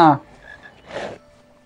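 A frog croaks in the Harry Potter and the Philosopher's Stone video game: one short, loud, buzzy croak at the start, then a softer rasping croak about a second later, with no talk over it.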